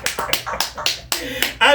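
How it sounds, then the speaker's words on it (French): Church congregation clapping at a service, a rhythmic series of sharp, loud claps in quick even bursts, ending with a voice rising over them. "Applaudissons pour Douala."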